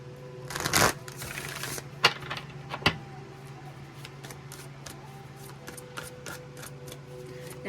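Tarot cards shuffled and drawn for a clarifying reading, with a burst of riffling early on, then a couple of sharp slaps as cards are laid down and soft ticking handling after, close and fairly quiet.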